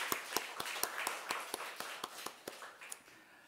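Church congregation clapping in a Sunday worship service, a thin, fairly distant patter of about a dozen sharp claps that tapers off after a few seconds.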